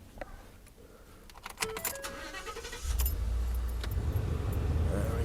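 Keys jangle in a bright metallic flurry before a car is started, and the engine turns over into a steady low idle that fills out the rest of the clip.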